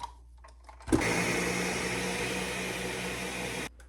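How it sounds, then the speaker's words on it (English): A blender or food processor purees roasted tomatillos, tomatoes and garlic, starting abruptly with a loud steady whirring roar that runs for nearly three seconds before cutting off. "we're going to put it into a blender or food processor"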